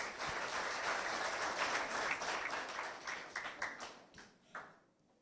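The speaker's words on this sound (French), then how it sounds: "Applaudissez très fort pour vos enseignants." A school audience applauds its teachers at a quiz competition event, a dense burst of clapping that thins into a few scattered claps and fades out.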